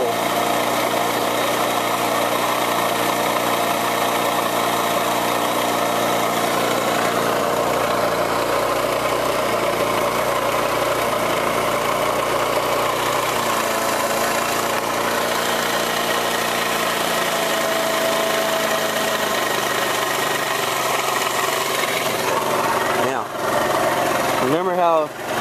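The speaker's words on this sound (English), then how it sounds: "I always let it run and everything before I start it, so that way it's warmed up" A small moped engine idles steadily to warm up, running as a continuous, even drone close by for the whole stretch, with a brief clatter near the end.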